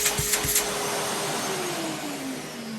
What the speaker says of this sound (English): I mean, it is a Hoover canister, which don't have the reputation as having extreme suction, but it's good for what it is.